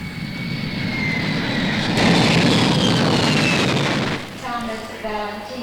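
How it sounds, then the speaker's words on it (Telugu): An airplane arriving in a Telugu film scene gives a loud, steady engine roar for about four seconds, then cuts away to quieter sound with brief voices. "విమానం వచ్చేసిందండి"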